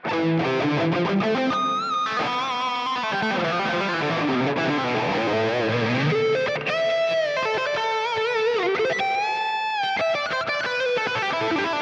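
Electric guitar played through a NUX Amp Academy's Friedman amp model, a loud, driven, distorted tone with sustained chords and melodic lead lines ringing continuously throughout.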